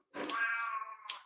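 A single drawn-out cat meow, close and clear, rising then trailing off with a short extra squeak at the end, alone without any talk.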